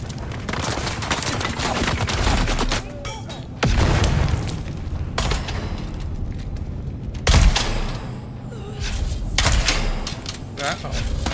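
Grenade blasts and gunfire in the survival game Dune Awakening, loud booming bursts at about 3.7 and 7.3 seconds over steady rattling combat noise, with a voice talking.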